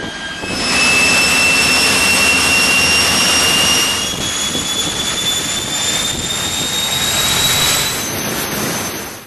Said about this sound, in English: Once started, it is a spectacular engine, being noisy, smelly, and in the exhaust area, hot and very nauseating.